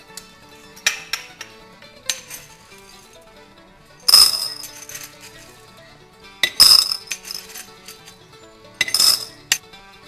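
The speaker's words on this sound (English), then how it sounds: "take some of your seed stock and to place it in your jars to soak overnight." Sprouting seeds poured into glass jars: three bright rattling pours with glassy clinks, separated by quieter handling and faint taps, close and clear.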